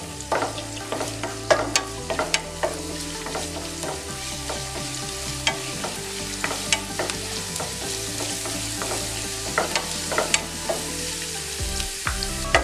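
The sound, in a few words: ginger and garlic frying in coconut oil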